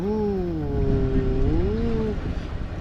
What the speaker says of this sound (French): j'ai des sautes de régime moteur